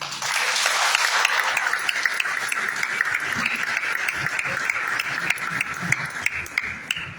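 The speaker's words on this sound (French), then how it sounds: "Des applaudissements mérités que je me demande de réitérer." Sustained applause from an audience at a commemorative conference, many hands clapping in a steady dense wash with a few sharper individual claps standing out.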